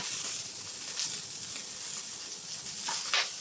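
Hot cooking oil sizzling in a pan for a stir fry of water spinach with crab paste and pork, a steady close hiss with a few brief louder spits and crackles.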